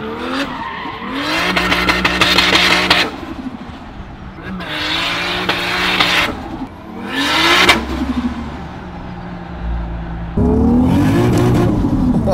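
A 450 hp Toyota Chaser Tourer V with a turbocharged 1JZ engine, GTX3076 turbo and one bar of boost, revs hard in several loud, rising bursts separated by lulls, with tire squeal and skidding mixed in.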